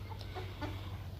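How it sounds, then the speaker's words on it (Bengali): Hens and roosters pecking at scattered rice in a farmyard, with faint clucks and soft poultry calls over a steady low hum, close and fairly quiet. "মুরগি মুরগা সবই খাচ্ছে"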